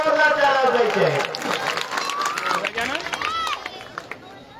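A village crowd claps loudly after a donation pledge of cement bags is announced, dense sustained applause with a few shouts and voices mixed in, fading slightly toward the end.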